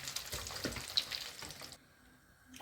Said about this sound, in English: Let's add in some more chicken breast. Into the hot oil.